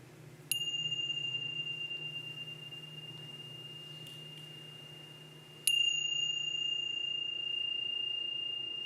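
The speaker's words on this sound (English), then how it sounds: "I'm going to invite the bell" A meditation bell opening prayer in a sanctuary is struck twice, several seconds apart, each strike a clear bright ring that sustains and slowly fades against a quiet room hum.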